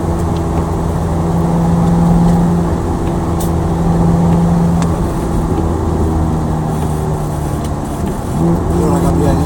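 A Ferrari 430 lapping Mugello fast on a wet track, its engine droning steadily from inside the cabin along with road and spray noise, while people talk over it.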